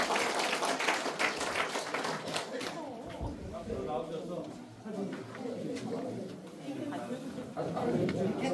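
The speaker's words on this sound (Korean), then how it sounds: "큰 박수 부탁드리겠습니다." Crowd at a Korean political committee launch ceremony clapping briefly at the start; the applause soon fades and gives way to murmuring talk and movement as people gather for a group photo.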